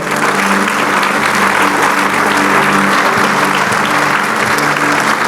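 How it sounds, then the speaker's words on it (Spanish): A church congregation applauds during a sermon, producing dense, loud, continuous clapping that fills the space evenly from start to finish. "Dale un aplauso al Señor."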